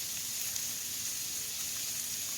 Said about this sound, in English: clove of garlic that I'm sticking in here. Cook that for just a moment.